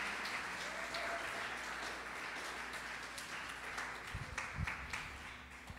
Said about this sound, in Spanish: ¿por qué no te das un aplauso por pertenecer a esta casa?